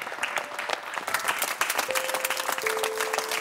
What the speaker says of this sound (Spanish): Un aplauso para la chica y para el chico.